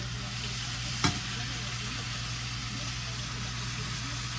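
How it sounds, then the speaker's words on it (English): Swai fish frying in a pan gives a steady, even hiss throughout, broken once by a single brief knock partway through. "We're gonna let these fry for about a good 10 minutes"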